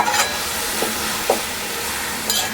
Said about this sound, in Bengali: ভালো করে মিশিয়ে নেব, তাহলে একটু আঁটো হবে।